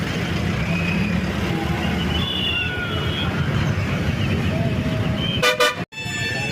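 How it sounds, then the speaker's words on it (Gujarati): Busy road traffic in Bhavnagar, with a steady dense rumble of vehicles, a few faint distant horn toots, then a sharp burst of louder honking near the end as a voice speaks over the din. "ટ્રાફિક તો બહુ છે."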